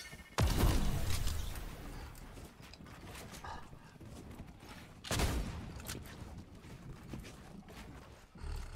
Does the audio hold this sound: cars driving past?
no